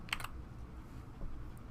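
A quick keyboard shortcut pressed on an Apple computer keyboard: two crisp close clicks at the start, then a faint single tap near the end, otherwise quiet.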